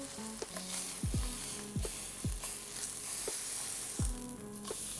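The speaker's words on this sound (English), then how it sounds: "I'm gonna go instantly and put my first steak in. We really want to get a nice sear" A steak searing in a hot oiled pan for a chimichurri steak sandwich, a steady loud sizzle and crackle of fat with occasional clinks of a utensil against the pan, no voices.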